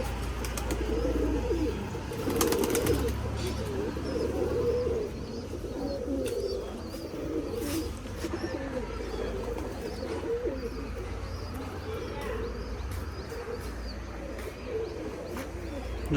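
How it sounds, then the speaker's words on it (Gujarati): Pigeons coo repeatedly at a cow shelter in Sarangpur, low rolling calls layered over a steady background rumble with occasional chirps and clicks. "કબૂતર પણ છે।"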